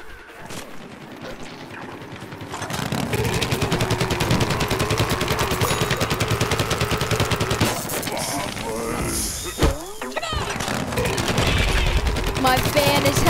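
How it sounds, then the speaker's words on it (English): A football cannon in the Plants vs Zombies Garden Warfare shooter fires in a rapid, sustained stream of punchy shots, loud and dense for most of the stretch, with a brief lull and one sharp burst partway through. "I love this football cannon, by the way."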